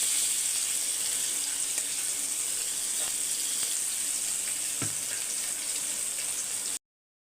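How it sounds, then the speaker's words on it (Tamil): Fish fries in oil on a dosa griddle with a loud, even, hissing sizzle that holds steady until it cuts off abruptly. "இப்போ இந்த பக்கம் மீனை வறுத்துக்கலாம் எண்ணெய் ஊற்றி வச்சுருக்கேன் தோசைக்கல்லில்"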